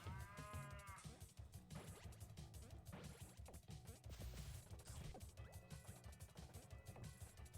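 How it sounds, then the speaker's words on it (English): Cows mooing in the Pizza Tower video game, several cartoonish moos mixed with crashing and smacking game effects and music, played fairly quietly. "I just got assaulted by cows."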